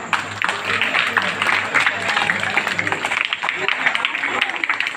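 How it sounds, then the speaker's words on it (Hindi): Audience at a school poetry gathering applauding to welcome a student, a sustained patter of clapping from a crowd with a host's voice heard alongside it, fairly close and steady. "कृपया तालियों से स्वागत करें।"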